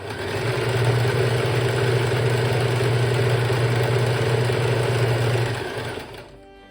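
Domestic sewing machine running steadily, stitching a zigzag along the edge of a piece of fabric, with a constant loud motor hum and rapid needle rhythm for several seconds before stopping.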